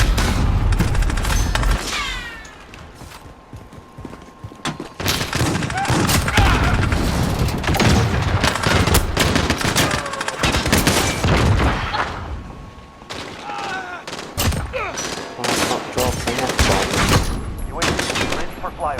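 Rapid bursts of gunfire and booming explosions from a Call of Duty Modern Warfare match, loud and dense in clustered volleys with short lulls, with a voice talking over the action.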